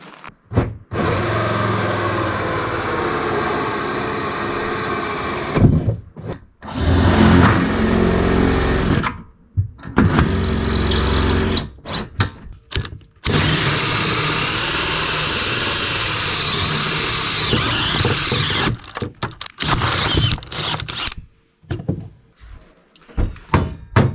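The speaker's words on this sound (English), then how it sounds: "Now I'm going to try to drill through this box" Loud bursts of power-drill whine grinding through a steel box with a 1/2-inch bit, stopping and starting repeatedly, with brief quiet gaps between runs.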